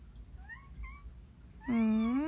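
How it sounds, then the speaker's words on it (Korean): A cat meows a few times, with soft short chirps first and then one loud, drawn-out meow close by. "고양이."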